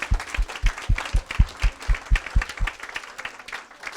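A church congregation claps in a steady rhythmic beat, about a dozen loud, evenly spaced claps that fade out near the end, with faint voices underneath.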